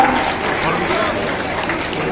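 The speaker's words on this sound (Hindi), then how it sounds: "तालियों से स्वागत हो गई, बहुत बढ़िया।" Audience applause welcoming a guest at a JJP political event in a Haryana village, a steady mass of clapping from the crowd with voices mixed in.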